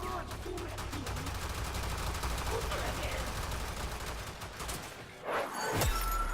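Heavy gunners firing in Warframe produce rapid, sustained automatic gunfire rattling at moderate level, ending with a sharper burst and sweeping effect near the end.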